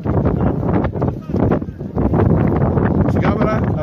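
Gusty wind buffets the microphone at an outdoor amateur football match, a steady loud rumble with surging gusts, while a voice talks over it.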